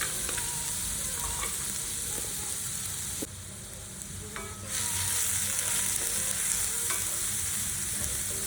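Two finely chopped onions fry in a pan with two to three spoons of oil and a little ghee for Punjabi-style chole, a loud continuous sizzle broken by scraping stirs, briefly softening midway, with no talking.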